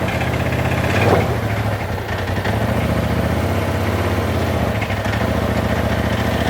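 A Polaris engine runs steadily at a low, even idle-like pitch while towing a car, loud and close with no talk over it.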